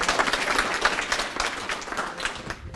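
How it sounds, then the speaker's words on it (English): Applause from a training-session audience, steady and fairly close, filling nearly three seconds with dense clapping that tails off slightly at the end. "Give him a round of applause."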